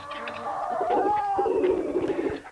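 Young ispenç roosters from a backyard flock crow and cluck up close in a steady run of calls, with softer bird murmurs around them and no talk.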